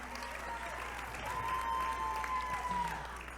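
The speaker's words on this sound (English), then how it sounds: "Can we give Minnesota Orthodontics a round of applause?" Steady applause from a gala audience, a sustained patter of many hands clapping at moderate volume.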